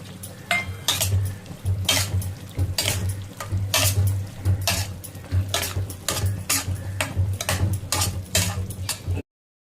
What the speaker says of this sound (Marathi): आता आपण ह्याच्यामध्ये कोळंबी सोडतोय.